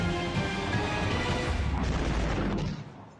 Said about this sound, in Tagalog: Dumagundong ang pagsabog sa West Tehran sa Iran nitong Huwebes Santo.